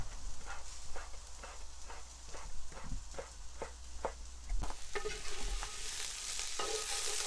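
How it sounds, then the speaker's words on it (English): Onions and poblano peppers sauté in a pan for a breakfast casserole, with a steady sizzle under a run of evenly spaced utensil scrapes and stirs, close and fairly loud, the frying growing brighter and busier toward the end. "And we're going to saute all this together."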